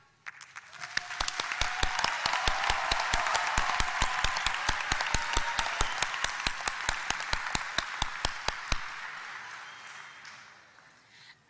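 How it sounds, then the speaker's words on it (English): An audience at a North Carolina Central University winter commencement ceremony applauds, a steady wash of clapping with sharp, evenly spaced claps standing out, swelling early and fading away near the end. "Please join me in applauding them."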